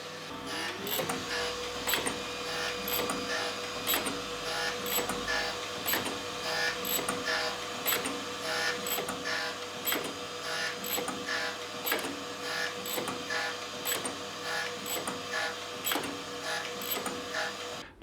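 Surface grinder with crossfeed engaged, its bearings worn and the wheel out of balance, running steadily nearby with a constant mechanical hum and regular rhythmic clicks and knocks from the feed mechanism throughout, with no talking.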